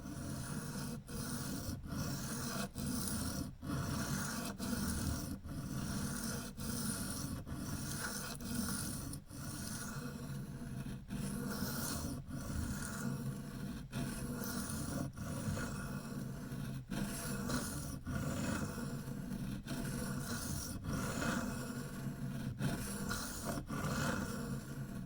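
Freehand sharpening of a Case Sod Buster Jr knife with a chrome vanadium steel blade: a steady series of rasping strokes, about one per second, continuing evenly throughout with no talk.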